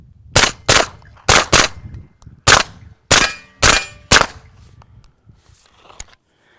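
Nine suppressed 9mm shots from a CMMG Banshee, sharp close cracks fired in uneven pairs and singles with short pauses and brief decays, outdoors.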